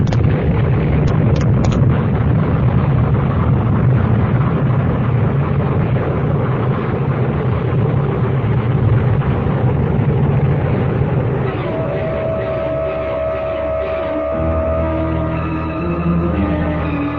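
A dense, sustained rumbling blast fills a radio mystery drama scene, loud and broadband, then thins into a lower roar with tonal hum toward the end.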